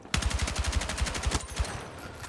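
An AK-205 rifle in the video game Battlefield 6 fires one loud, close automatic burst of about a dozen rapid shots, then the shots stop and the game ambience continues.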